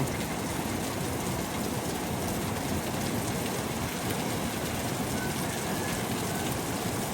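Heavy tropical-storm rain pours down steadily and loudly, a dense unbroken hiss of drops hammering surfaces close by, with no letup from start to finish.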